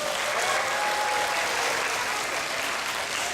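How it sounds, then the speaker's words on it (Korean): A church congregation applauds its teachers with a sustained wash of clapping from many hands, even and fairly close, with no talk over it. "우리 귀한 선생님들 위해서 한번 박수 한번 보낼까요?"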